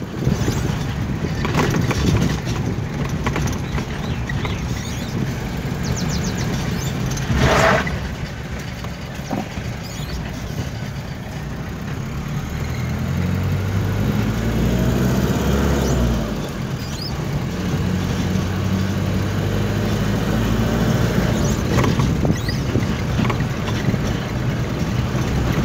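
Light car engine running steadily during a driving test, a continuous low rumble with shifting tone as the vehicle moves and turns, with one brief louder knock partway through.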